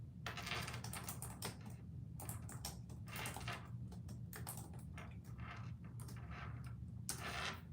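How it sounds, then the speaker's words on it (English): Rapid, irregular clicking of keys on a computer keyboard, steady and fairly close, over a low background hum. "I'm going to type something in the chat to you, Alexis."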